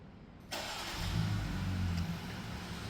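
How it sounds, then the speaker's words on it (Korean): A Jeep Gladiator pickup with an aftermarket valved exhaust, valve closed, cranks and catches quietly, then settles into a low, steady rumble through the exhaust, fairly close. "시동 킬 때는 조용하게 걸렸습니다."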